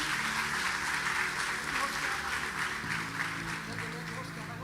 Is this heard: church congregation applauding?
yes